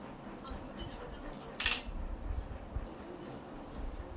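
Scissors cut fabric for sewing with a single quick, crisp snip. The snip is fairly faint and stands out briefly against a soft, steady background.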